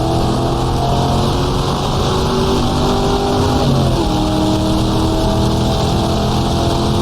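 A 1966 sportscar in GTR2 revs up hard at Monza on a wet track, its engine note climbing through the gears with sweeping pitch rises and a brief shift dip, loud and continuous throughout.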